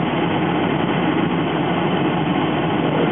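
A car engine with its RPM read over a Bluetooth OBD2 scanner runs at a steady, even drone throughout, close and fairly loud, without a clear rise in pitch.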